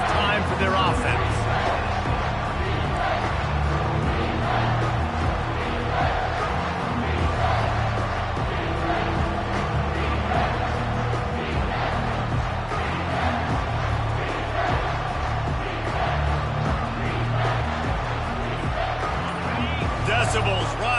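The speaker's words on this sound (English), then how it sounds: "Decibels rising as the crowd gets behind this defense on 3rd down" A college football stadium crowd at Tennessee vs Texas A&M roaring steadily on third down, a dense, loud, sustained wall of cheering and noise with no break.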